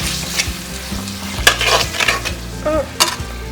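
Haitian spaghetti with herring and hot dog frying in a pan, a steady close sizzle with occasional clinks and scrapes of stirring over low background music.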